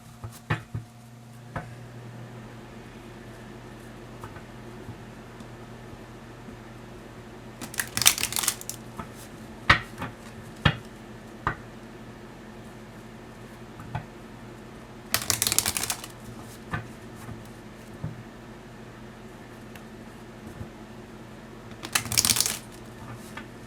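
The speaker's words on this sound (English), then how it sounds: "let me shuffle this" Tarot cards are shuffled in three short, brisk bursts spaced several seconds apart, with a quiet hum and faint ticks in between.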